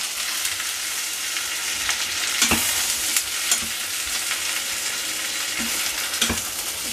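Vegetables frying in a pan give a loud, dense, continuous sizzle, broken by a few spatula knocks and scrapes as they are stirred, close up with no voices.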